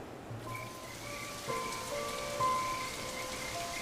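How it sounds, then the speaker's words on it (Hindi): Heavy rain falling as a steady, dense hiss on surfaces, continuous and moderately quiet, with faint tonal ambience running underneath. "इतनी बारिश को भी आज ही आना था।"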